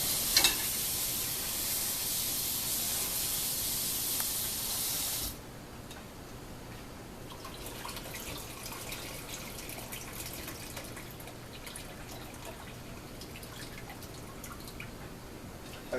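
Food is rinsed under a running kitchen tap, a loud steady spray of water for about five seconds that then cuts off, leaving faint drips and small handling sounds.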